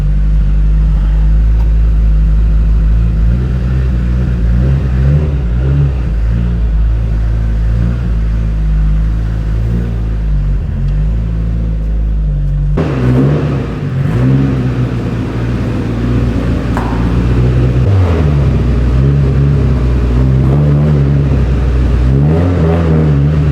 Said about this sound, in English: If you're wondering why it's idling so high